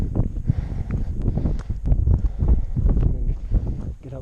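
Gusty wind buffets the microphone on an exposed slate mountain ridge on Skiddaw, giving loud, uneven low rumbles and bursts that rise and fall with no clear speech.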